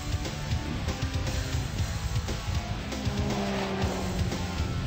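A Mazda RX-7 runs a slalom course with its engine droning loudly and continuously, tires giving brief squeals as it turns through the cones.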